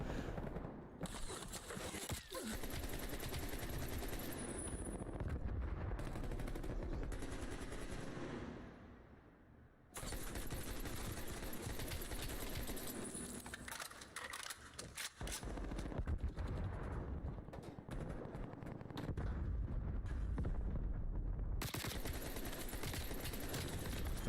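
Rapid bursts of automatic gunfire from a video game shooter, dense and loud for most of the stretch with a brief pause midway, then more sustained firing.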